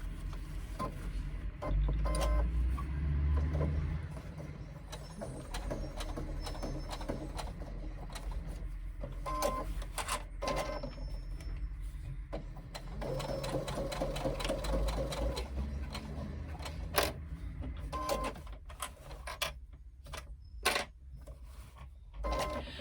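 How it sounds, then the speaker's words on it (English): A sewing machine stitching a connector onto a leather-style crossbody bag, running in steady rapid bursts with brief pauses, close and clear, with faint speech at moments. "I'm going to actually sew this one on so you can see."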